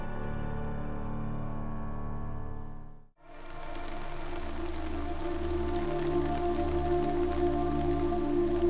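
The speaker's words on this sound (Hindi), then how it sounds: "देखिए बारिश भी हो रही है" Steady rain falling and pattering on surfaces, a continuous close wash with a brief dropout partway through before it resumes at similar strength.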